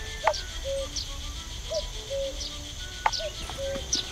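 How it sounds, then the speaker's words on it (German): A colourful woodpecker in the forest of the video game The Night of the Rabbit, giving short, bright chirps and whistled calls that repeat every half second or so over a soft woodland background. "Und hier haben wir jetzt einen bunten Specht."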